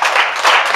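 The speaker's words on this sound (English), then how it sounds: "Clap your hands real big." Church congregation clapping their hands together, a dense, steady wash of many hands at close range with no voices over it.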